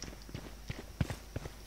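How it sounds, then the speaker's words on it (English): Enemy footsteps in the shooter game Valorant, a quick run of soft, evenly spaced steps close by, about a dozen muffled thuds in under two seconds. "I hear footsteps on me."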